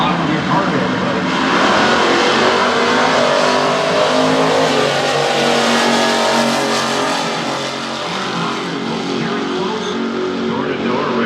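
Drag racing cars roar side by side down the track at a Pontiac drag meet, a continuous loud engine wash that swells and briefly dips, with announcer-style talk likely mixed in.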